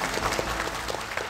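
Steady audience applause at a school talent competition gala final, a brief dense patter of many hands clapping throughout.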